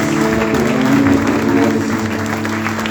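Church congregation clapping steadily throughout, dense sustained applause with a voice faintly underneath.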